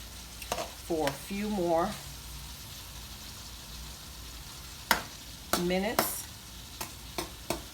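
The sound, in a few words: ackee and saltfish cooking in a pan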